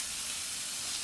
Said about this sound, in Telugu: ఇప్పుడు స్టవ్ని మీడియం ఫ్లేమ్లో పెట్టుకొని ఒక 2 నిమిషాల పాటు వీటిని వేపుకుందాం